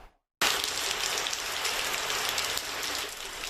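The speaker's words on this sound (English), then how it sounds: "It's packing 70-mile-per-hour winds and heavy rain as it's hitting Cuba's western tip in this video." Heavy rain from Hurricane Idalia lashing Cuba's western tip: a dense, steady roar of downpour that starts abruptly after a brief silence and continues loud and unbroken, with no voices.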